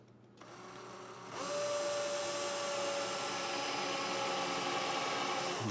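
A power drill spins up from a low idle into a loud, steady whine as it bores holes with a drop of oil on the spot, the sustained motor tone holding alone without talk.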